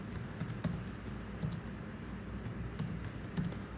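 Fingers tap out bursts of keystrokes on a computer keyboard, close and fairly soft, with irregular clusters of clicks separated by short pauses.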